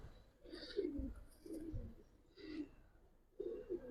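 Silver Giribaz pigeons give several soft, throaty coos in separate bursts, close by and with no voices over them.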